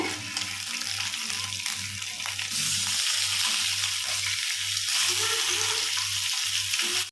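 Fish fry sizzling steadily in a pan of hot oil, a dense continuous crackle with a few brief scrapes and bumps as the pieces are turned.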